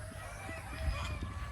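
Ducks on a farm give a few scattered honks and quacks above a steady hiss of background noise, moderately close and fairly faint.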